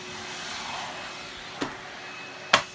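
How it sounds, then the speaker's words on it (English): A Numatic Henry cordless vacuum cleaner runs with a steady whirring hum indoors during a house clean, broken by two sharp knocks of the head against something. "Not fans of vacuum cleaners."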